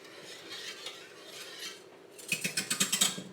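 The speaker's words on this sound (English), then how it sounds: "I'm just going to stir it for a minute." Spatula stirring pumpkin pie filling with milk in a bowl: soft scraping at first, then a quick run of about eight rhythmic clinks and scrapes against the bowl, close and clear with no talking.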